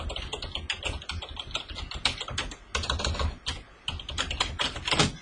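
Fast keystrokes on a computer keyboard while a web address is entered in Microsoft Word, a dense, steady clatter of close clicks with small pauses, no voices.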